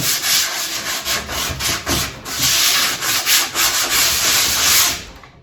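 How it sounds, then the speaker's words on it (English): Wood being sanded during a bathroom renovation: continuous close, loud abrasive rubbing in back-and-forth strokes, with no talk. "sand it over and use wood filler"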